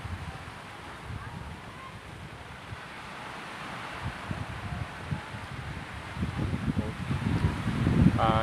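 Strong gusting wind by the sea buffets the microphone in a constant roar, growing louder toward the end, with faint rustling beneath.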